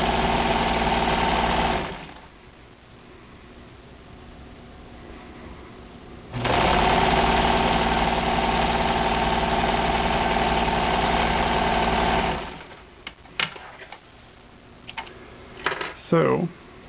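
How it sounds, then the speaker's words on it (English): Sewing machine stitching a French seam in fabric, running in two long steady bursts with a quiet pause between, followed by a few clicks and handling sounds as it stops. "I'm going to roll this as I'm stitching it"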